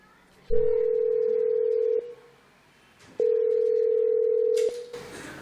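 A phone call rings out without an answer, two long loud steady tones separated by a pause of about a second, heard close and clean.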